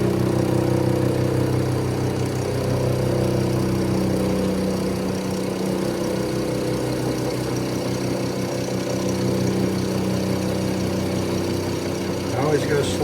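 A metal lathe takes a continuous, uninterrupted cut on a workpiece for a rock tumbler, a steady droning machine hum that holds evenly for the whole stretch with only slight shifts in tone.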